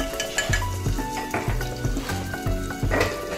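Ginger garlic paste frying in hot oil for a chickpea curry, a steady close sizzle broken by repeated knocks and scrapes of a spoon against the pan, with no voices.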